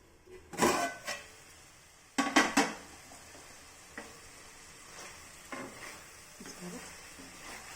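Eggplant seasoned with turmeric and salt sizzles softly in a pan, broken by a few loud clanks and scrapes of a utensil stirring against the metal.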